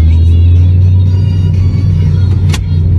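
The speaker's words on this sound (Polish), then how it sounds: "Daj się rozpędzić samochodowi." Alfa Romeo 147 car accelerating, a steady low engine drone with a rising hum filling the cabin, loud and continuous throughout with no voices.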